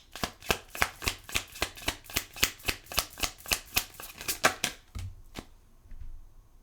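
A deck of tarot moon cards is riffled and shuffled close by in a rapid, regular series of about twenty crisp flutters, then the shuffling slows and stops.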